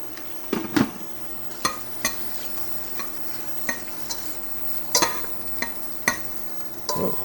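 Mushrooms sizzle in oil in a pan for homemade ramen, starting to burn, with a steady frying hiss broken by repeated sharp clacks and scrapes of a utensil stirring against the pan, close and without talk.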